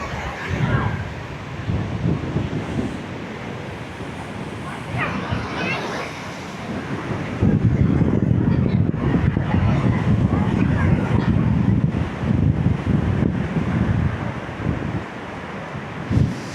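Sea waves and wind at Kuakata beach on the Bangladesh coast: a steady, rushing roar of surf mixed with gusty wind buffeting the microphone, swelling louder in the second half.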